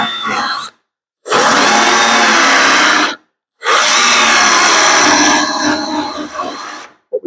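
A cordless battery drill whines loudly in long bursts while drilling out spot welds, with two short pauses between runs and a brief stop near the end.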